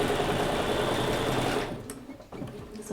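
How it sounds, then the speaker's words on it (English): A sewing machine quilting a quilt runs in a steady, loud whir for about a second and a half, then slows and stops with a few softer stutters and clicks before starting up again. "I want to go ahead and finish quilting"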